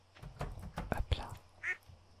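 Ducks in the farming video game Stardew Valley, a few faint quacks amid soft clicks and rustles, with a brief higher cry near the end.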